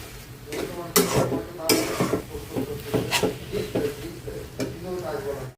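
Food frying in a pan as a utensil scrapes and stirs it, with a steady sizzle and repeated clattering strokes against the metal while a person talks over it.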